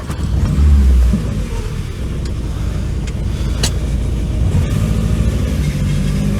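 A rare, long-abandoned Volkswagen Scirocco drives on its first test run in years, its engine a loud, close, steady rumble with a brief low surge near the start.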